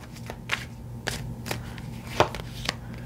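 Tarot cards are shuffled by hand close up, with a quick series of crisp riffles and flicks arriving in short bursts at an uneven rhythm.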